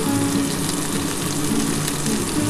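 Ground spices sizzling and frying in a pan for a light vegetable and fish curry, a steady crackling hiss close by with no voices.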